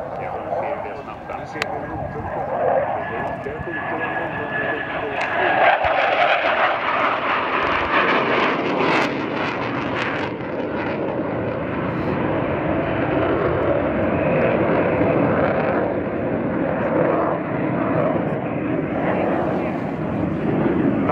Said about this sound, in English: This was at an air show in Dubai. These two jets shooting at a target.